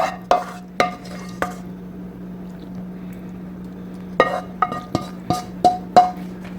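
Honey garlic sauce going onto a pork chop: a spoon or utensil clinks and scrapes against a dish several times in two clusters, with a gap between them, over a steady low hum.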